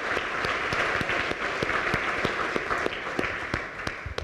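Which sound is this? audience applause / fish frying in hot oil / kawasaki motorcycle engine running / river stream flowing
audience applause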